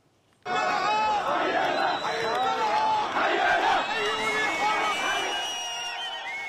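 A large crowd of Syrians celebrating the fall of President Assad, a dense roar of massed shouting, chanting and ululating voices that bursts in abruptly and stays loud and continuous throughout.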